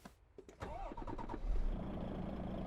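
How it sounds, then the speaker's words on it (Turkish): A truck engine in Euro Truck Simulator 2 cranks and catches, rising into a steady, loud rumbling idle that continues to the end of the clip. "Ve aracımızı şu şekilde bir çalıştıralım"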